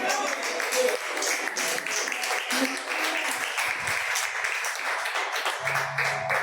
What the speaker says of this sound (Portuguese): E você senta aplaudindo ao nome do Senhor Jesus.